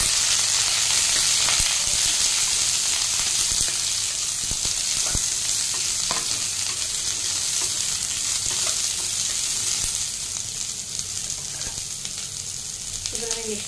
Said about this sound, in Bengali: তারপর আমি বিটরুটটা দিয়ে দিচ্ছি, কুঁদরুটা দিয়ে দিচ্ছি, রাঙা আলু, গাজর একসাথে দিয়ে একটু নেড়ে নেবো।